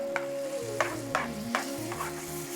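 Tamarind paste is worked into a prawn curry in a pan over a fire, with rhythmic spoon scrapes and clacks roughly every half second over a gentle sizzle and a steady background tone, and no talking.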